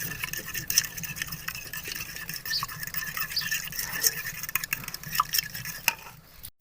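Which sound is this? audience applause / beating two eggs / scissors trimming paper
beating two eggs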